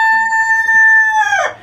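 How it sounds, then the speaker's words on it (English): A rooster crows once on a farm, a loud, close, sustained call that breaks off at the end, alone with no talk. "We have a silky chicken in the back over there."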